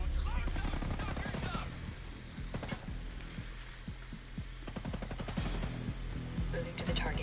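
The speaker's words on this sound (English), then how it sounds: "they're firing on something, I'll bet it's a Terminator" Rapid gunfire in Ghost Recon Breakpoint, repeated bursts of fairly distant automatic shots fired at a Terminator, with a voice talking over parts of it.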